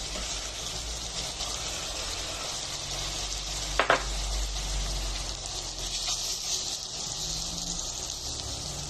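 Tomatoes go into a pan of frying onions, a constant sizzle marked by a brief clatter and splash as they land, then a softer crackling fry.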